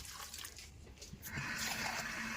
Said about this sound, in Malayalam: ഇതിലേക്ക് കുറച്ച് വെള്ളം ഞാൻ ഒഴിച്ചു കൊടുക്കുകയാണ്.